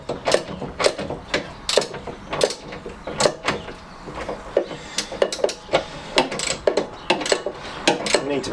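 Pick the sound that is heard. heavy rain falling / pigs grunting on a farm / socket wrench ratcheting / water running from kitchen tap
socket wrench ratcheting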